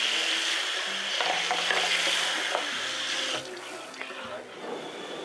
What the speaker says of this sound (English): Hot water and just rinse your filter.